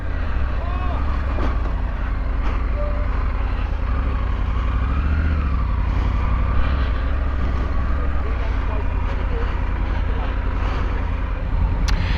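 A Triumph Adventure motorcycle rides a training course with a steady engine drone, loud and close, mixed with wind noise, while a voice talks over it.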